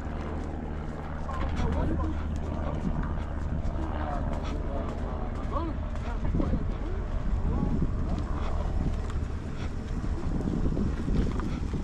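Wind buffets the microphone in a continuous low rumble, with people talking over it for the whole stretch.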